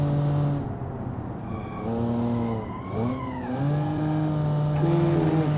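A car engine in a racing video game revs and shifts through rising and falling tones, with tire squeal as it corners, loud and continuous throughout.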